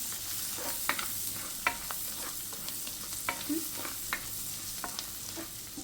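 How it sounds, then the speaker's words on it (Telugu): Crushed garlic and cumin stirred and fried in a pan for an evening snack made with idli, a soft continuous sizzle broken by repeated light scrapes and taps of the spoon at an even pace, with no voices. "దంచి పెట్టుకున్న వెల్లుల్లి ఇవన్నీ వేసి ఫస్ట్ కలపాలి"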